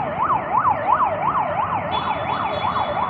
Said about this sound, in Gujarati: હા એમ્બ્યુલન્સ આવે છે